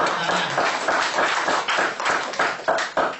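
A group claps hands together in a steady, fairly loud burst of overlapping claps lasting a few seconds, with no talk over it.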